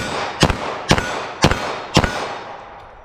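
Four sharp, loud 9mm pistol shots fired at a target at a steady pace about half a second apart, each with a short echoing tail, no talking.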